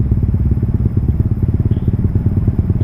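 A Honda Vario scooter engine idling at a raised speed, its IACV sensor in error after the bike sat unused, giving a steady low, throbbing pulse close by with no voice over it.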